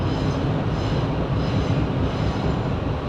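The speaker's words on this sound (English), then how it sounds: "No driver inside. It works automatically with a computer system." A driverless, computer-controlled metro train in Malaysia rumbles steadily at close range, a continuous low rolling roar of wheels and motors with no voices.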